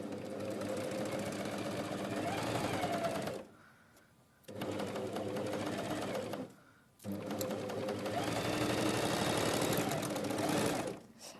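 A sewing machine running a single-needle chain seam stitch, its rapid mechanical whirr and clatter going in three sustained bursts separated by two short pauses, fairly close and clear with no voices over it.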